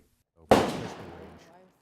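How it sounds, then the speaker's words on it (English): A single shotgun blast at a trap shooting range of a gun club rings out sharply, then trails off in a long reverberant echo lasting over a second. "He's based at a gun club, so that's why you'll hear some gunfire during our interview."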